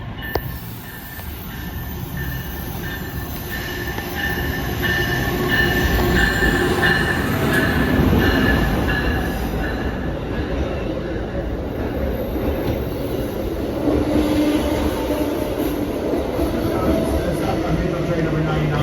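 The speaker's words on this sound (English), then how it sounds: "Here comes the train to Newport News." An Amtrak train pulls into Wilmington station with a steady heavy rumble, squealing wheels and a faint high whine, building and then holding as it rolls in close by, with people talking on the platform.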